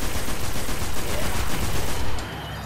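Rapid gunfire in the shooter game Destiny: a loud, dense burst of overlapping shots that stops abruptly near the end, leaving quieter background sound.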